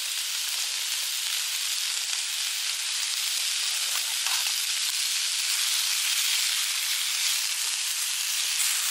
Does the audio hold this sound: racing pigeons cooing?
no